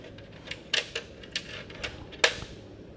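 Scissors cutting open a fish snip several times in an uneven rhythm, crisp close-up clicks with short pauses between cuts.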